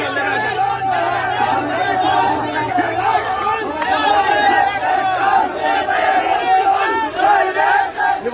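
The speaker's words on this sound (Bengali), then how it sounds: "স্লোগান দিচ্ছেন" Protest crowd chanting slogans with loud, sustained massed voices and shouting, demanding action over a threat against Barrister Sumon, dense and continuous throughout.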